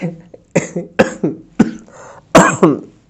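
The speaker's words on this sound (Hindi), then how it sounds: "खांसी भी हो चुका है" A close, loud series of harsh coughs, about six bursts in quick succession with short gaps between them.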